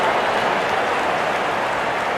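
A stadium crowd cheering in the cricket video game Real Cricket 24 during an India versus Pakistan super over, a dense, steady roar of applause filling the moment at a loud, even level.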